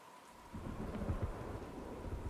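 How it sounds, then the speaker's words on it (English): Steady rain pours in the Batman Arkham Knight video game, with low rumbling thunder rolling beneath it and building after a quieter opening, moderately loud and with no voices. "What's with all the rain?"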